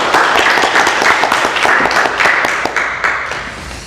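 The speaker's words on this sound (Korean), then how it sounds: "우리 하나님께 영광의 오늘 박수를 돌려드리겠습니다." A church congregation applauds after a prayer during a Sunday service. Many hands clap loudly in a dense, sustained burst that fades slightly toward the end.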